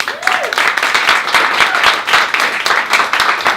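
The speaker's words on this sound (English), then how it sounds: "another round of applause for all the artists tonight" Steady applause from an audience for the artists at an evening show in a lounge, dense clapping filling the room throughout, with a brief voice near the start.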